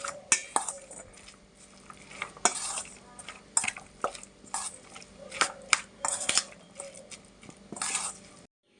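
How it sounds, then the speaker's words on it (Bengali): Chicken momo filling being mixed in a bowl, heard as a run of close, irregular clinks, scrapes and soft squelches with uneven rhythm and short pauses between strokes. "দেখুন মোমোর পুরটা আমার মাখানো হয়ে গেছে"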